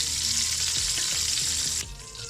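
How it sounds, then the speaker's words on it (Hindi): Butter heats in a pan to make desi ghee, with a loud, steady hiss of frying, brief clinks of stirring, and the sizzle easing slightly near the end. "अगर देसी घी बनाना है तो इसको जितना आप गर्म करते जाएंगे मक्खन को, ये देसी घी में चेंज हो जाएगा"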